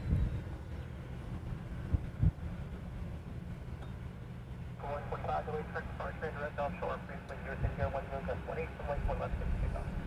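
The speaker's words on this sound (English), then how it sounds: "the next one coming in on this side is a 717. It's coming in from Hilo. It is right on top of us" A Boeing 717 airliner coming in from Hilo at Honolulu airport passes close overhead, a broad rumbling roar that builds and holds under gusty wind noise.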